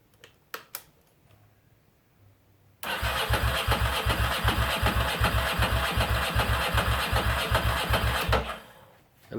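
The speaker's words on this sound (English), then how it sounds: "At least we know it cranks and compression sounds okay" A Ducati Monster motorcycle with a dead battery cranks over after a quiet start, its starter and engine turning in a fast, steady pulsing rhythm for several seconds at close range before stopping, with no firing.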